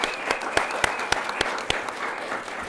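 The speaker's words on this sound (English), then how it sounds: "let's give them another big round of applause" Audience applause for critical care nurses at a hospital award ceremony, a steady wash of clapping with a few sharp individual claps standing out, moderately loud and close.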